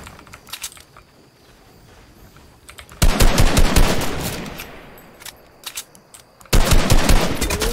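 Assault rifle gunfire in the video game Fortnite, rapid automatic bursts of shots firing in two loud stretches over quieter game ambience.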